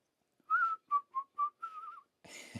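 A person whistles a short phrase of an old Disney tune, five clear notes, the last one wavering, close and alone, followed by a brief breathy noise.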